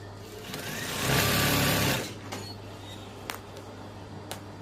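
A sewing machine runs in a short burst while stitching a curtain, a steady close whir that rises for about a second then stops, followed by quiet handling clicks.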